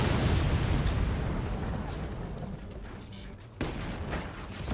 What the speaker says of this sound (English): There's no anti-air and the 20mm cannon exploded